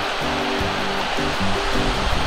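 A river flows past a riverbank at night during a headlamp test on a mountain trail. A steady, loud rushing of water fills the whole clip, with no voices.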